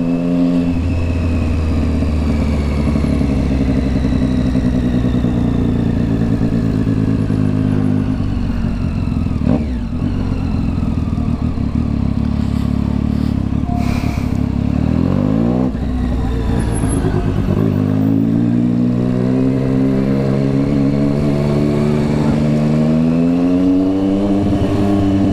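Triumph Street Triple 675 motorcycle engine revving loudly up and down close by, a steady throaty drone with rising and falling pitch sweeps, one sharp drop around the middle, and no talk over it.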